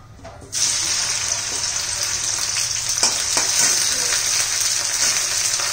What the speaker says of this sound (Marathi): भेंड्या पण तेलामध्ये जरा परतून घेऊया